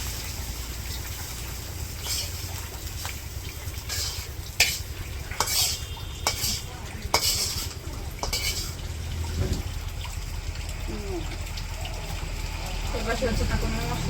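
Spices frying in oil in a village kitchen pan, a steady loud sizzle with a spatula scraping and stirring, scattered sharp clinks of metal utensils against the pan, and brief background voices.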